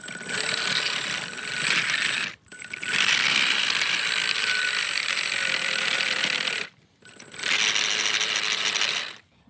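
A robot with active suspension makes a whirring, clicking mechanical noise continuously, broken by two brief pauses, with a steady high whine over a ratcheting rattle.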